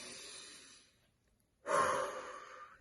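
A person breathes in deeply: a soft exhale fading out, a second of near silence, then a strong, close, airy inhalation that swells and holds to the end.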